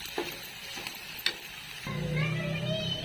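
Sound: onion frying in oil in a pan

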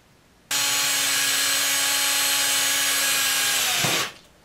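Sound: drill boring hole in back of round scrub brush

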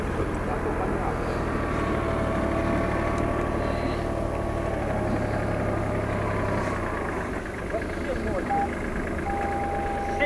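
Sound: tractor engine running

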